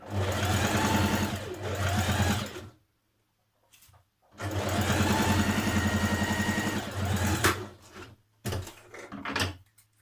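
Trouser seams run through a sewing machine at a 1.5 centimetre allowance, two long, loud stretches of rapid rhythmic stitching separated by silence, then a few short bursts and handling clicks at the end.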